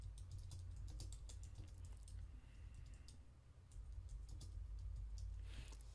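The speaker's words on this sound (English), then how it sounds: "just type in your blog post title and" Faint, rapid keystrokes on a computer keyboard while entering a blog post title in a WordPress dashboard, tapping in irregular bursts over a low background rumble.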